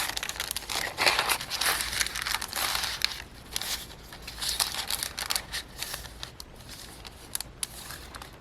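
Paper crinkles, tears and crunches in bursts close by as a torn piece is shaped into a junk journal page, with quieter pauses between the rustling handling sounds.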